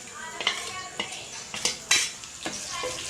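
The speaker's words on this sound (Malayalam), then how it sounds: "ഇതിലേക്ക് നമുക്ക് പച്ചമുളകും കറിവേപ്പിലയും ഇട്ട് കൊടുക്കാം." Green chilies and curry leaves go into a chicken biryani pot with several sharp clanks of a metal spoon against the pan over a light sizzle, close and fairly loud, with no talking.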